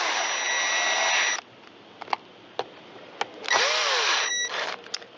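Cordless driver snugging screws into plastic housing on a Stihl MS193T chainsaw: two sustained whirring bursts, each ending with a quick pitch drop as the screw seats, separated by light clicks and taps, close and loud.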